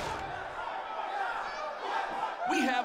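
Roaring arena crowd in WWE 2K19 fills the whole stretch with a steady, dense wash of cheering, swelling louder near the end as a brief shout or voice cuts through.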